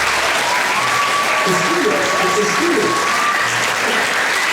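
Steady applause from an audience at a middle school orchestra concert fills the hall throughout, with a voice speaking over the clapping.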